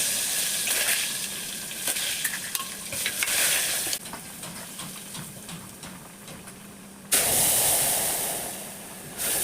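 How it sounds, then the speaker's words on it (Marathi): Tempering splashes into varan, a tamarind dal with curry leaves, tomato and onion, in a loud bursting sizzle with sharp crackles. It settles into a softer fizz, then surges loud again. "मस्त वरणाला फोडणी बसली आहे"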